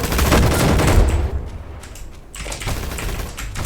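Rapid bursts of gunfire from a Roblox Gunfight Arena match crackle loudly, thin out into a brief lull, then start up again in quick rattling volleys.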